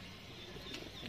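A released pigeon flaps its wings, a soft, brief flutter heard faintly at a distance against a steady background hiss.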